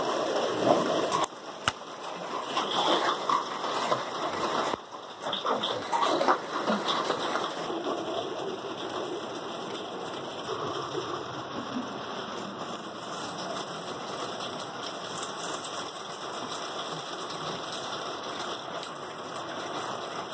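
Hail and rain fall during summer, a dense continuous patter on surfaces with a few louder knocks early on, steady and fairly close throughout.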